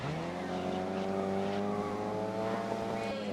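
Racing car engine in the video game GRID, a steady high-pitched whine climbing and holding through the gears, loud and continuous with faint tyre noise beneath.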